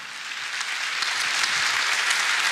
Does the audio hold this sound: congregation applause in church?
yes